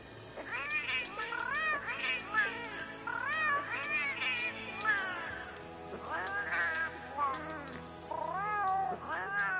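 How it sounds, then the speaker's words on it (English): Cats yowl in the video game Monster Hunter World with long, rising and falling meows and caterwauls. The calls repeat in drawn-out wailing phrases with no pauses, loud and alone, and no speech is heard. "Sounds like some back alley cat fucking."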